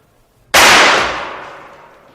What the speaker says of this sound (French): Vous avez entendu? C'était un coup de pétard?